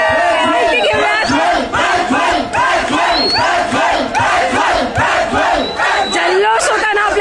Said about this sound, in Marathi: जल्लोष होताना आपल्याला पाहायला मिळतोय.